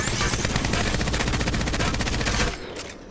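The Devotion light machine gun in Apex Legends fires a long, fast, unbroken stream of rounds, loud and close, then stops abruptly, leaving a quieter tail.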